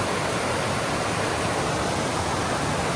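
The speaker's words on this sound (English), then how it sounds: "That's a pretty darn good waterfall." A waterfall on Bloody Brook roars as a steady, dense broadband rush, close and constant throughout with no voices.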